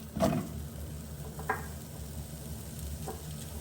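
Chunks of butternut squash and fennel hitting a hot pan, with a soft clatter as they drop in, then steady low sizzling and a couple of quieter bumps as the pieces settle.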